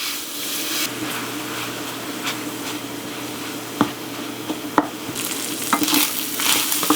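Broken-up sausage meat fries in a pan, giving a continuous close sizzle broken by sharp scrapes and clicks of a utensil stirring it, with no talking.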